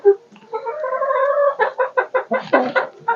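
Rowdy hens in a coop clucking up close, a long drawn-out cackle breaking into a quick rhythmic series of loud, sharp clucks.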